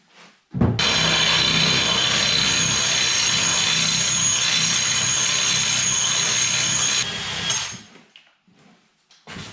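A drill with a 6.5mm bit whines steadily and loudly for about seven seconds as it bores through tile, then winds down and stops, leaving faint handling noises.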